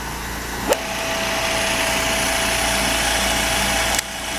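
Bracker AG Radial RN201 riveting machine, 480V three-phase and hooked to an air compressor, running with a steady motor hum and a sustained tone, marked by a sharp click near the start and another near the end.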